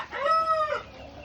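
A single crow from a native fighting rooster on a farm rings out clearly, rising then trailing off, close by with little else around.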